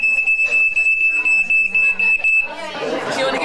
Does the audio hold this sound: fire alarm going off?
yes